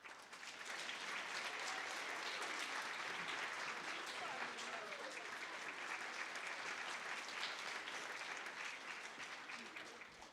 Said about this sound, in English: Give a nice round of applause to our own Farmer Majak.